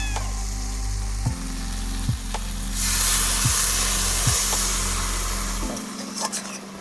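Water poured into a hot pan of taro stolons cooked with prawns sets off a loud, steady sizzle and hiss that swells midway, with a few knocks of a utensil against the pan, outdoors in a village kitchen.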